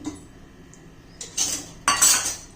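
Semolina and yogurt being mixed in a bowl with a spoon or utensil, heard as a few close scraping and clinking strokes against the dish after a quiet start.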